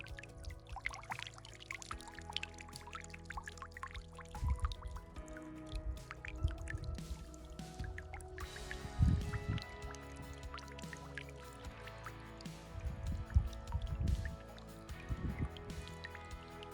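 Water flows out of a small, cooler warm hot spring in Greenland, with irregular dripping, pouring and gurgling splashes at moderate distance over a faint steady background.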